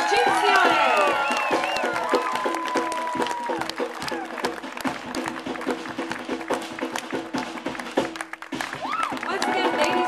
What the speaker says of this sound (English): how about a big round of applause for Chinzione?